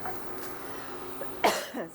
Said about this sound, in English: It's making me sneeze or cough.